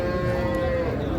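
A Sahiwal Sindhi breed cow, sold with her calf at the Ambari cattle market, gives one long, loud, close moo that holds steady for the whole moment.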